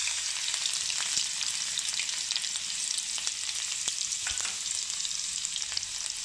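Crushed garlic and cumin seeds frying in hot oil for masala okra, a steady bright hiss of sizzling oil with scattered small pops, close and even from start to finish.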